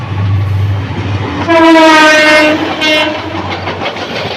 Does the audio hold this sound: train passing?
yes